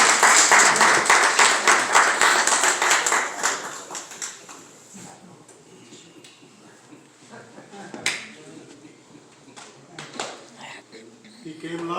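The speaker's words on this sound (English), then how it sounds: "Let's give him a hand clap." An audience at a clergy council holiday brunch for the 49th Precinct applauds a council member, a burst of close, lively hand clapping that fades after about four seconds into quieter room noise with a few scattered claps.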